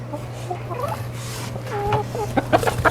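Backyard chickens moved out to a coop cluck and chatter close by, with a steady low hum running underneath and a few louder squawks toward the end.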